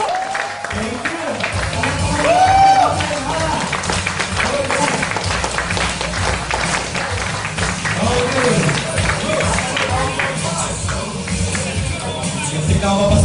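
An audience applauds to welcome a guest speaker at a business presentation in Kuwait City, loud sustained clapping and cheering from a crowd for the whole stretch, with voices mixed into the noise.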